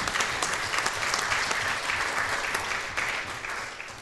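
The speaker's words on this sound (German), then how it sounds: "Und ich finde, da kann man auch nochmal einen Applaus loswerden." Sustained, dense applause from a seated audience at a regional party convention in Upper Bavaria, steady and loud for the full length with no speech over it.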